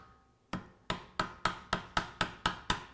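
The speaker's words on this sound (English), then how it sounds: "I use a leather hammer to install the bracket." Leather hammer tapping a brake caliper bracket into place on a 1968–79 Ford truck disc brake: nine sharp, evenly spaced close taps in steady rhythm, with no talking.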